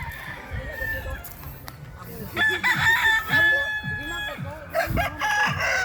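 A neighbour's rooster crows loudly nearby in repeated calls, accompanied by clucking from other chickens, with voices talking in the background.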